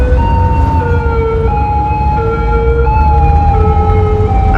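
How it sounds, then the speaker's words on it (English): A police car siren in the city-building game Cities: Skylines, a loud, close, steady two-tone wail cycling without pause over a low traffic rumble. "Another police car."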